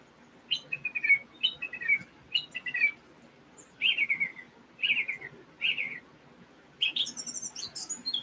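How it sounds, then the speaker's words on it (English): One bird sings outdoors in a run of clear, evenly spaced chirping phrases ending in a higher trill, close and distinct above a low background murmur, with no voices. "Well, we had one bird"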